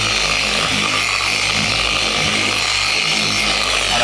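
A machine polisher buffs car paint to remove swirl marks, giving a loud, unbroken motor whine with an even, constant intensity from start to finish and no talking.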